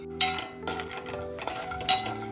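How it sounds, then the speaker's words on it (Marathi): Almonds and pistachios being roasted in ghee in a pan, with repeated clinks and scrapes of a metal spoon against the pan and a low background hiss. The sounds are close, and nobody speaks. "त्यामध्ये बदाम थोडस पिस्त दोन ते तीन मिनिट तुपावर परतून घ्यायचं"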